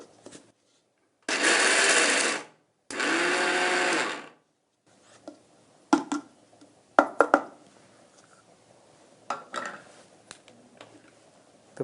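Two loud bursts of a grinder coarsely grinding peanuts into powder, each about a second and a half, separated by a short pause, followed by quieter scattered knocks and clatter.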